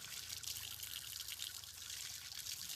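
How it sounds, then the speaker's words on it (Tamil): Water pours and trickles steadily as someone rinses their hands and legs outdoors in a village. The flow is faint and continuous, with no voices. "சரி நீ கை காலை மட்டும் கழுவ."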